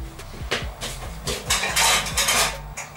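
Plates, pots and cutlery clattering in a home kitchen during washing up: repeated close, bright clinks and knocks in quick irregular bursts, loud and with no talking.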